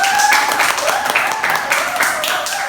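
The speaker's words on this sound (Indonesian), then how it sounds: "Kasih tepuk tangan dulu untuk kelompok." A classroom group claps for a presenting group, brisk uneven hand claps close by with some voices mixed in.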